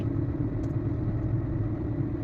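A vehicle engine idling and pulling away at a customs checkpoint gate, a steady low rumble with a slight clattering texture, close and continuous with no talk.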